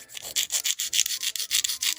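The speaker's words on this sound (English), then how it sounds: "I'm just going to reshape these nails using my hand file." A hand file shapes freshly cut nail tips, rubbing in quick, steady back-and-forth strokes close up with a dry, scratchy rasp and no talking.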